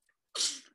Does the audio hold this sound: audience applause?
no